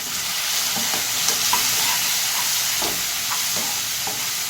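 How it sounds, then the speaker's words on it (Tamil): Onions and tomato sizzle loudly in a frying pan while being stirred. A steady hiss runs throughout, with soft scraping strokes from the stirring and no voices. "ஆனியன் நல்லா கோல்டன் ப்ரௌனாக வதக்கிக்கலாம்."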